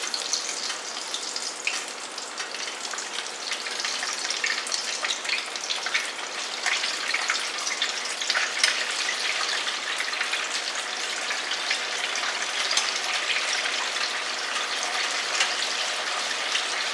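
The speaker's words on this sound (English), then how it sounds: "so now we're going to start frying off these." Buttermilk-battered chicken pieces frying in oil heated to 350 degrees, a steady dense sizzle and crackle that holds evenly loud throughout with no voices.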